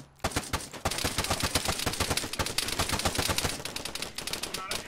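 Rapid automatic gunfire in GTA, dense bursts of shots firing in quick succession, close and loud throughout, with faint voices underneath.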